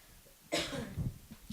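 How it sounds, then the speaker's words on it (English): A single close cough from a person with hay fever, short and sharp, followed by a softer throat sound, in an otherwise quiet room. "I'm going to cough again."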